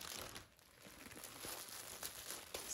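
Individually wrapped plastic packaging being torn open from a vacuum-compressed belly sleep pillow, a faint, close crinkling and rustling that continues throughout with no speech.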